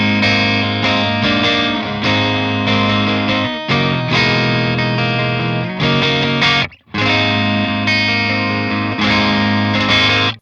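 Electric guitar played through a Marshall JCM 800 Synergy amp module at low gain, ringing chimey chords with light breakup. Strummed phrases sound close and loud with one brief pause, and nobody talks.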